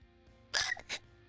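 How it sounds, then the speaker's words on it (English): A woman hiccups during a gaming stream: a sharp hiccup, then a second smaller one, loud and close against a quiet background. "Oh dear, I have the hiccup."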